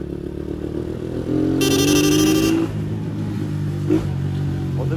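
Kuba CG Gold motorcycle engine running on a city street in İzmir, a steady close drone with a brief rising rev in the middle and faint traffic around it.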